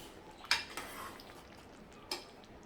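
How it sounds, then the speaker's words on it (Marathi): Rajma masala curry is spooned into a serving bowl, with two sharp utensil clinks against the dish about one and a half seconds apart over a faint, quiet background. "आता वरून कोथिंबीर घालते आणि सर्विंग बोलमध्ये मी काढून घेते"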